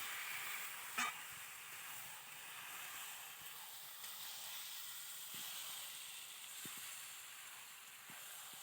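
Chicken and onions sauté in a pan with a faint, even hiss throughout and a few soft knocks from the pan or spoon.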